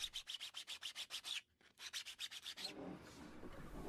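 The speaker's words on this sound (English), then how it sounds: "The wood filler and the plastic sand at different rates, so it's especially important to ensure you're using a flat surface to sand" Steady back-and-forth sanding strokes on wood filler and 3D printed plastic over a flat surface, a rhythmic scratchy rasp close up, briefly pausing before a longer smoother rub.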